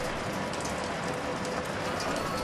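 Steady rain falls in the video game Shadows Over Loathing, a dense, constant hiss with soft pattering drops, close and even throughout with no voices.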